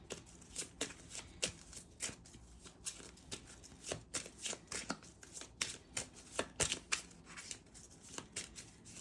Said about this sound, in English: but we're going to reshuffle them.